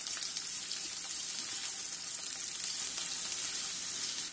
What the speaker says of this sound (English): Fry them briefly.